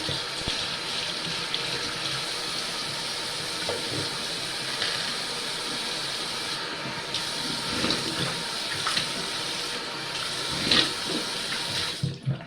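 A bathroom tap runs steadily into a sink while someone rinses after brushing their teeth, giving a continuous close hiss of flowing water with small splashes and a few clinks near the end.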